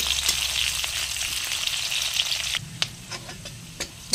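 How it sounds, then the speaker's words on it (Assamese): A medium onion fries in hot oil with a bay leaf until golden, for a taro-leaf curry: a steady, close sizzle with occasional soft clicks and taps from stirring, and no talk. "পিঁয়াজখিনি গোল্ডেন ফ্ৰাই হোৱালৈকে ভাজিব।"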